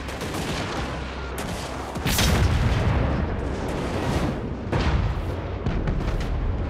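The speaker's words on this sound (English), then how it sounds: "Get rid of the tower. Open fire." A fantasy battle in Total War Warhammer 3: artillery opens fire on a tower, loud booming shots and rumbling impacts crowding together in a continuous barrage.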